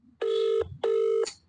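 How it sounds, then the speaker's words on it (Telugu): A phone ringing on an outgoing call: two clear, evenly spaced electronic ring tones, each lasting about half a second, close and alone. "ఫోన్ అయితే రింగ్ అవుతుంది,"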